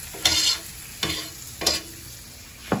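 Butter going into a hot pan with olive oil and vegetables, heard as a few sharp bursts of sizzle and stirring scrapes spaced about a second apart, close and fairly loud with quiet gaps between.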